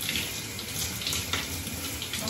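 Tap water runs steadily into a bathroom basin or tub while feet are washed with body soap, a continuous close splashing hiss with small surges and no talking.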